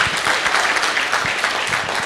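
Audience applause fills a hall at a motivational business seminar, a steady dense patter of many hands clapping throughout, fairly loud and close with no voices over it.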